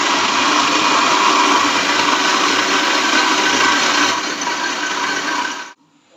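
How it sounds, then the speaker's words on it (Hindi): An electric blender runs continuously for nearly six seconds, beating sugar and eggs into a smooth mix for a homemade chocolate cake. The loud, steady whirr holds throughout, eases slightly near the end, then cuts off abruptly. "ब्लेंडर को चला के चीनी को मिक्स करूंगी"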